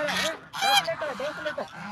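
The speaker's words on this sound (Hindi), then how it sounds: "अरे ये तो हंस जैसे लग रहा है इतना बड़ा मुर्गी" A large goose or similar big fowl honks repeatedly, close by, along a village path in Kashmir. The calls come in several loud bursts over about two seconds, with no clear talk over them.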